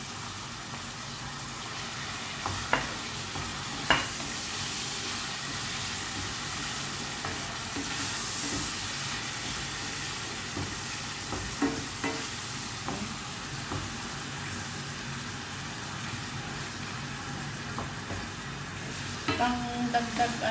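An ingredient browns in a frying pan for Arabic-style burgul rice. It gives a steady, moderate sizzle for about twenty seconds, broken by a few light scrapes and clicks of stirring.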